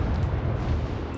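Destroyer cannon fire in the World of Warships naval combat game, a dense, loud, rumbling boom filling the whole brief moment with no speech.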